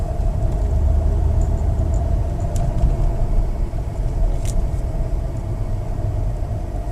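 Mercedes S55 AMG with a 722.6 automatic gearbox driving along, a steady low engine and road rumble with slight dips in level as gears change, no voices over it.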